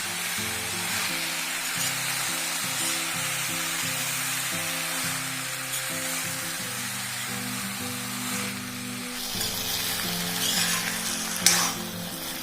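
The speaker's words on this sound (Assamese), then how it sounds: "কিছু সময় এইদৰে লৰাই লৰাই ভাজি থাকিব, যাতে গোটেই বস্তুখিনি ভালদৰে ভাজ খায়।" Pigeon meat and banana flower frying with spices in a pan, stirred now and then, give a steady, continuous sizzle over a low, shifting tonal hum that runs under the whole stretch.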